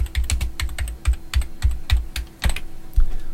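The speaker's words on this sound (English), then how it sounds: "Just click on edit, you get a cursor there and you can start typing." Typing on a Mac computer keyboard: a close, steady run of crisp key clicks with an irregular rhythm, alone with no talk.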